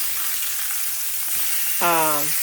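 Salmon searing in a hot pan gives a steady, bright sizzle throughout, close and fairly loud. A brief tonal squeal appears near the end.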